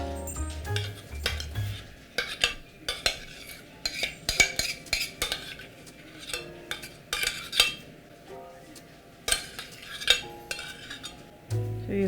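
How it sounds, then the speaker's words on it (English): A utensil scrapes and taps against a dish while roux is spread over a green banana pie, giving irregular clinks and scraping strokes at close range with no talking. "So I have whipped up a roux to go over the pie. So I'll be spreading it over the pie this way."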